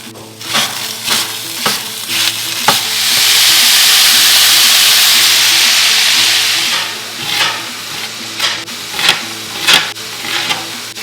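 Chorizo and turnips frying in a skillet, a loud close sizzle that swells into a steady hiss for several seconds, framed by rhythmic scraping and stirring strokes of a utensil.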